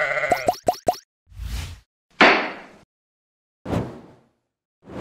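Store lambs bleat in a quick cluster of short, close calls, followed by a few separate dull thumps and rustling bursts as the sheep are moved.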